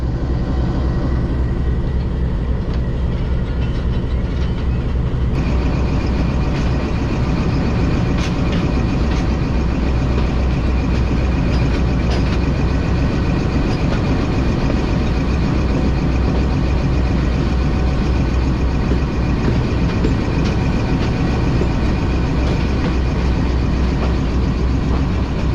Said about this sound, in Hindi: फाइनली ट्रेन हमारी चक पिराना से मूव होना शुरू हो चुकी है